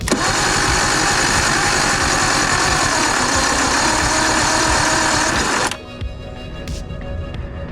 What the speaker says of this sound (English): She could still crank better.